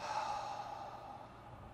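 A slow, intentional exhale during guided meditation, a soft airy breath out that fades steadily over nearly two seconds, close and quiet, with no talking.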